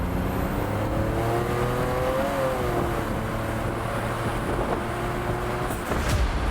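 A car accelerates hard at speed, around 65 mph, its engine droning loud and close with rising harmonics as the tires spin, steady throughout with no talk.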